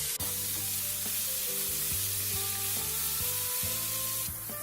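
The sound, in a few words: onions and chopped capsicum frying in a pan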